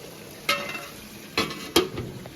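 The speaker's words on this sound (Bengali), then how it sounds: "আর এইদিকে তোমার বেরেস্তার জন্য পেঁয়াজ ভাজতে বসিয়ে দিয়েছি" Onions frying for biryani beresta make a low background sizzle, broken by three sharp scraping stirs in the pan.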